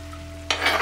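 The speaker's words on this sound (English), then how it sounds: "What we're gonna do now is we're gonna add the onions, green peppers." Onions and green peppers tossed into browning chili meat, a low hum giving way to a sudden loud burst of sizzling and stirring in the pot for the final half second.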